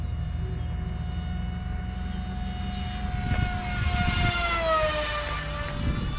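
A model F-18 jet on a speed run makes a high, whining engine tone that swells and bends as it passes, with a faint rushing roar beneath it.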